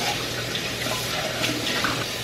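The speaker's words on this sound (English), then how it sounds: "Fill your pot with water." Tap water pours steadily into a cooking pot at a home kitchen sink, a close, even rushing hiss that stays constant throughout with no voices.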